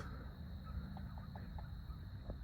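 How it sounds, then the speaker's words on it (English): Ducks give a short series of soft, quacking honks, faint and somewhat distant, over a steady low outdoor rumble. "But meanwhile, we got the ducks"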